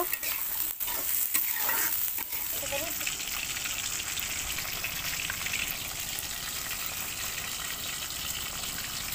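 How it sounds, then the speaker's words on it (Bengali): Onions frying in oil until lightly browned, a dense steady sizzle with scraping and stirring knocks near the start, then settling into an even hiss alone. "এখন হচ্ছে আমি তেলে পেঁয়াজগুলা দিয়ে দিলাম। তো পেঁয়াজগুলো একটু বাদামি করে ভেজে নেব।"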